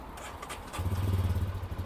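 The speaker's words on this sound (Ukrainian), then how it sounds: "Давайте ще в себе запущу мотор." A motorcycle engine cranks and catches, settling into a low, rapid, steady idle after a moment of quiet clatter.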